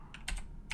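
Computer keyboard typing while coding in Pygame: a few quick, soft keystroke clicks in a short burst, near and fairly quiet, with no voice.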